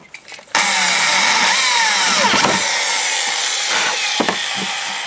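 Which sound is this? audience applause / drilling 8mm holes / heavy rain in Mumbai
drilling 8mm holes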